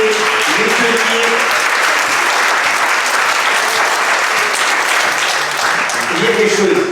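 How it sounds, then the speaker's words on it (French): Audience at a children's graduation ceremony clapping in a dense, sustained round of applause, loud and continuous, with a voice talking over it at the start and end. "Et les Morotes méritent tous nos applaudissements."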